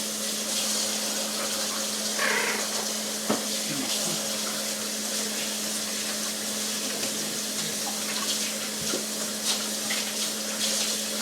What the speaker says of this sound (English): Actually, I'm going to wash my hands.